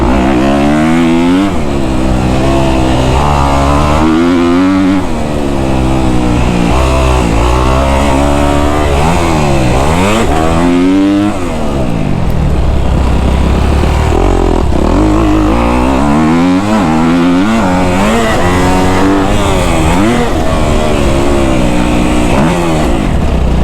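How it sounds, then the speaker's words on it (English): A Kawasaki KX250F four-stroke dirt bike roars close up while being ridden, its engine revving out hard through repeated rising and falling sweeps as gears are held, loud and continuous throughout. "If you really like to rev out your bikes, you'll love a KX250F, man."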